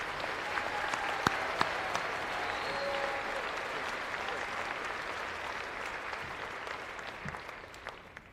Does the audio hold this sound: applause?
yes